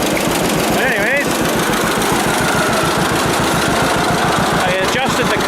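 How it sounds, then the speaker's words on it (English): A 1946 John Deere AR tractor engine idles loudly and close, with a steady rapid chugging and an occasional pop after a carburetor adjustment. A brief squeal rises above it at times. "I adjusted the carburetor a little bit this morning, and I got a little bit of that popping noise out. You can still hear it the odd time."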